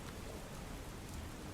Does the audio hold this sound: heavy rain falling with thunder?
yes